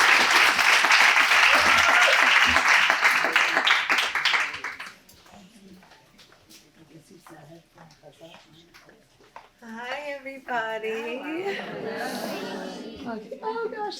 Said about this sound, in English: Let's give a loud round of applause to Jamie Geller.